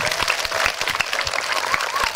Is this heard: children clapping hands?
yes